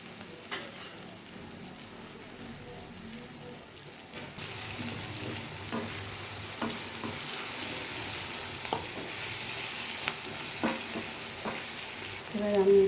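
Egg poured into potatoes frying in a pan, a quiet stretch followed by a sudden jump to a steady, bright sizzle with occasional stirring clicks, close and even, without talking.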